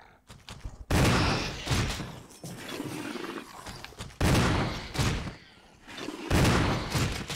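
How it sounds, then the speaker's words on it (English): A shotgun fires in a video game as a few loud, booming blasts, each followed by a short decaying tail, spaced roughly a second or more apart, with faint speech between shots. "So let me use the shotgun diplomacy real quick."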